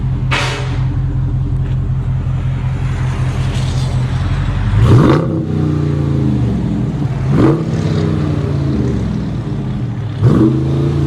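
A Dodge Charger Scat Pack with the 6.4L HEMI V8 and an aftermarket exhaust rumbles at a deep, loud idle close by, then three sharp revs flare up and fall back across the stretch.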